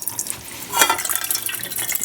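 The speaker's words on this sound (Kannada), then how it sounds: "ಅಲ್ಲೇ ಡೈರೆಕ್ಟಾಗಿ ನೀರು ಬಿಡ್ತೀನಿ." Water poured straight into a pot on the stove to make black tea, a brief splashing gush near the start that settles into a lighter trickle, close and fairly clear, with no talking.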